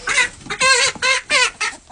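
Chickens cluck loudly and close by in several short, choppy bursts, one after another with brief pauses between.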